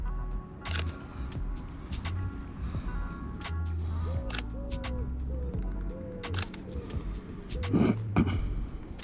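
Several camera shutter clicks sound while photographing the wheels of a Lamborghini Huracan with a Sony A7 IV, spread across the clip over a steady background hum, with a brief louder burst near the end.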